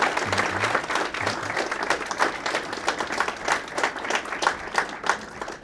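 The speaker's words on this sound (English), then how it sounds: "Let's give another round of applause for Mr." An audience at a Fisher College interview event gives a sustained round of applause. Many hands clap densely and evenly for the whole stretch, close and full, with no talking over it.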